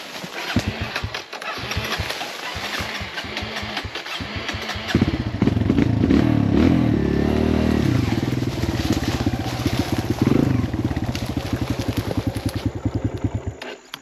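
A Kawasaki KLX140L dirt bike engine sputters and pops irregularly, then catches and revs into a steady loud idle close by, with faint talk nearby.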